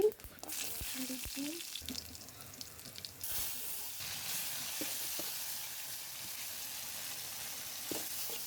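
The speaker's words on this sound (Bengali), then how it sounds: "আমি এগুলো এখন রসুন দিয়ে বাগা দিব" Boiled vegetables frying with garlic and cumin powder, a steady loud sizzle that starts after a few clinks and holds as a continuous close hiss, with brief utensil taps.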